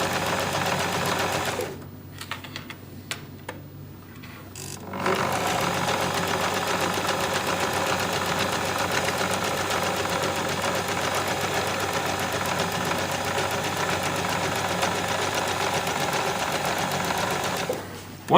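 Sewing machine stitching along the edges of a bag, a fast steady mechanical chatter that runs, stops briefly near the start, then resumes and continues loudly and evenly to the end, with no talking.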